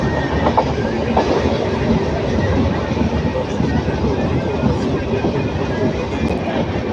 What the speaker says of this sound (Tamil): மலைக்கு பக்கத்தில் வருது பாருங்க ட்ரெயின்.